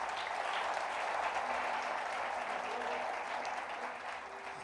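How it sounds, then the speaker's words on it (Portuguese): Church congregation applauding at a celebration service, a dense, steady wash of many clapping hands filling the room, sustained and moderately loud, fading slightly at the end. "Você pode aplaudir ao Senhor por essa palavra?"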